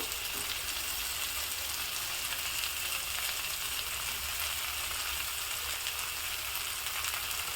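Stuffed brinjal frying with softened onions in a pan, a continuous even hiss of oil, steady and moderately close with no distinct knocks or voices.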